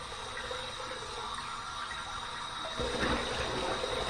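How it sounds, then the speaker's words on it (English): Warm tap water runs into a sink for a rinse after shaving, a steady splashing flow that grows louder and fuller near the end. "Here's my warm water rinse."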